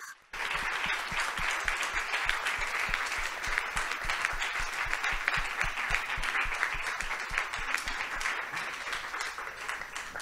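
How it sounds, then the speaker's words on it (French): A room full of people at a round-table forum applauds steadily for about ten seconds, with dense, even clapping that holds its volume throughout. "demander un applaudissement pour tous ces artistes avant qu'ils se préparent"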